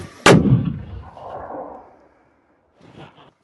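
A single deafening artillery blast booms close by during a military training exercise, followed by a rolling rumble that fades, then a faint clatter afterward.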